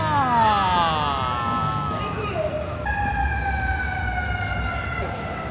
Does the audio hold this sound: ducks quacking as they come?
no